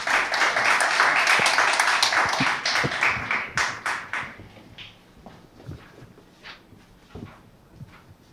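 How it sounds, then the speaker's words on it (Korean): A crowd applauds an award-winning startup team at a Korea University startup award ceremony, with dense, steady clapping for about four seconds that thins into scattered, fading claps. "다시 한번 박수 부탁드립니다"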